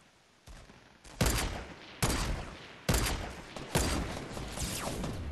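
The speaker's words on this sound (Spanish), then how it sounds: "Tiros aquí adelante." Gunfire in the video game Fortnite, with four sharp, loud shots spaced about a second apart, each trailing off into a brief echoing decay.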